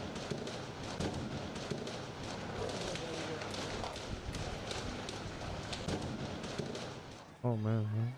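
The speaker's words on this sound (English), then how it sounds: "Oh man, there's a lot of gunfire. A fucking gun battle, dude." Gunfire in a gun battle: dense, rapid cracks and pops overlap continuously into a rough clattering wash, fairly loud throughout, before a voice cuts in at the very end.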